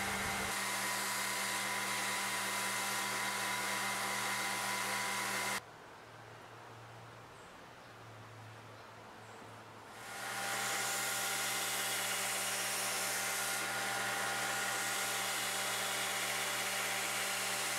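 A belt grinder shapes a carbon steel paring knife on its platen wheels with a steady, loud, hissing roar. The sound stops for a few seconds midway, then the grinding starts again and runs to the end.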